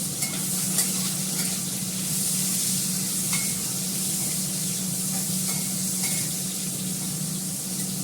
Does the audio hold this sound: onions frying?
yes